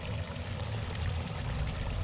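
Water pouring steadily out of a siphon tube, a continuous low splashing gush, close and fairly faint, with no talking.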